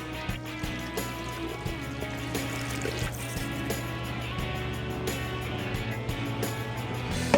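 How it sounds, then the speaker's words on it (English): Marinade is poured over beef in a bowl for smoked jerky, giving a steady liquid trickle and splash that runs through the whole stretch at a fairly low level, close by. "Now we're going to dump our marinade on top."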